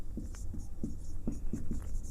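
Chalk or marker strokes on a classroom board during a Hindi physics lesson, a string of short scratchy taps in an uneven rhythm, close and fairly quiet, with no talking.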